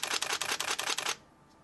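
A Nikon digital camera fires its shutter continuously at 4 frames per second, a steady run of about ten crisp, close mechanical clicks that stops abruptly, leaving quiet room tone.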